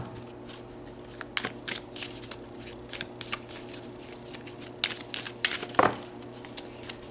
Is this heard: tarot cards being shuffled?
yes